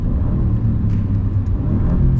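Alfa Romeo Giulia Quadrifoglio with a turbo V6 pulling hard under full throttle, a loud steady low engine drone that keeps building as revs climb past 4,000 RPM, heard from inside the car with no talk.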